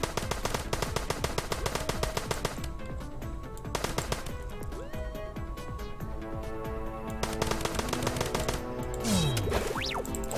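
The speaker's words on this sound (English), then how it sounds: "You just shoot them from a distance." Rapid gunfire from shooting enemies in the video game Starbound, dense bursts of sharp shots rattling close and loud over game music, with short pauses between volleys.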